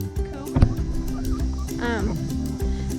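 Chickens in a new backyard coop cluck and squawk in short bursts over about three seconds, mixed with a brief knock and a rising honk-like call, with background noise throughout.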